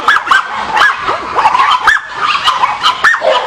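Several dogs bark and yip excitedly at close range, overlapping with high whimpers and whines in a busy, continuous chorus.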